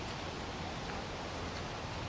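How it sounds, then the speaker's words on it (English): Steady rain falls on a hiking trail, a constant broadband hiss with no distinct drops, even in level and heard alone without voices. "Oh, there's rain."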